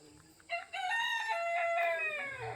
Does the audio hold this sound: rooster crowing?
yes